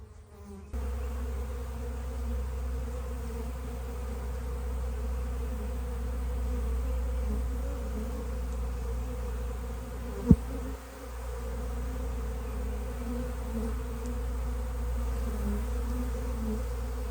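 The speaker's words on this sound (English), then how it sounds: "We're going to shake these bees out." Honeybees shaken out of their hive buzz in a continuous, dense drone that holds steady for the whole stretch, interrupted only by a single brief click.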